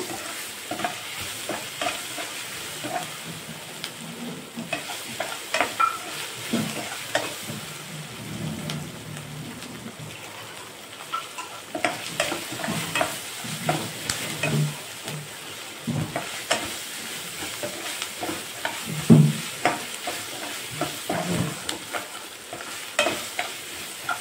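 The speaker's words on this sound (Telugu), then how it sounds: "ఇది కొంచెం వేగాలండి ఆనియన్స్" Sliced onions sizzle and fry in a pan for aloo rice, with steady crackling and repeated scraping stirs of a spoon, close and fairly loud, no talking.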